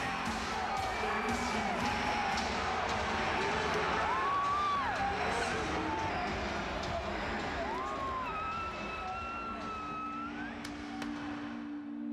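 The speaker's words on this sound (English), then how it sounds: "This crowd is living." A wrestling arena crowd at a WWE event roars in a dense, steady wash of noise that holds for the whole stretch, with a few whistles and shouts rising above it.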